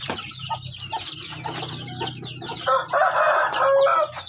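Chickens cluck and squawk close by, with a rooster's crow rising loudly near the end over steady farmyard clucking.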